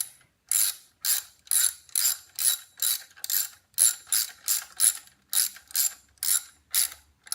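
A ratchet tightening screws on a Kawasaki Vulcan S 2015 passenger footpeg, with about a dozen evenly spaced bursts of rapid clicking, crisp and close with near silence between strokes.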